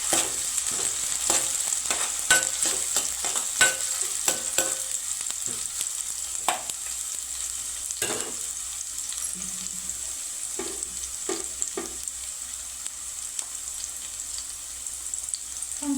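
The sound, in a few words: stirring green chillies into frying fish curry in pan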